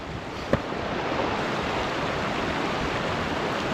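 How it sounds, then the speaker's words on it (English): Fresh mountain water rushes in a steady, broadband roar close by, constant and loud throughout with one short knock near the start and no talking. "Let's get the girls some fresh mountain water."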